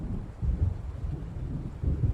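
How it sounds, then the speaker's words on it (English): A thunderstorm in the video game Alan Wake Remastered, a low rumbling roll of thunder mixed with steady rain and wind noise that swells twice across a short, continuous stretch with no voices. "It seems there's a storm coming."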